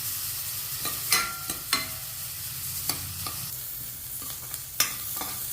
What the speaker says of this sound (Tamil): இப்போ நறுக்கி வச்சுருக்க வெங்காயத்தை போட்டோம். நல்லா வெங்காயம் வதங்கணும்.